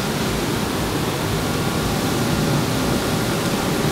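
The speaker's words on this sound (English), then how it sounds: "So those are the water jets." Bestway Saluspa Hawaii portable spa with all six water jets running, giving a steady, even rush of bubbling, hissing water that holds constant throughout without breaks.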